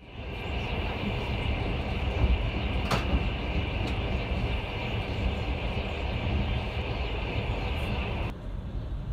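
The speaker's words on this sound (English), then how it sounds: "I made it on my train." Passenger train running, heard from inside the carriage: a continuous rumbling roar with a steady high whine and a brief sharp clack, constant throughout with faint voices.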